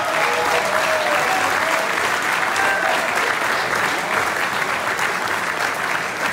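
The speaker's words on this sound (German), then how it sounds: "Ja, Applaus." Steady, loud applause from a crowd in the Augustiner-Keller beer hall during its 2020 strong-beer tapping event, unbroken dense clapping from start to finish.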